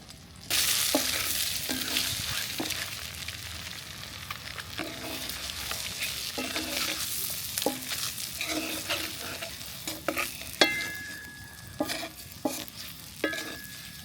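Hot oil sizzles continuously and fairly loudly, with repeated clinks and scrapes of a utensil stirring the pan throughout.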